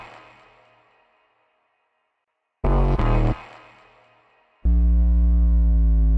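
A distorted, squared-off sub bass synth with no EQ, used in electronic music production. A fading tone gives way to a short, loud buzzy burst, then a sustained, heavy, harmonically rich bass note that starts near the end and holds.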